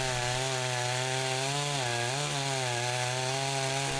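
A chainsaw quarters logs, its engine droning loud and steady up close with the pitch dipping briefly as the chain bites into the wood, then recovering; no voices.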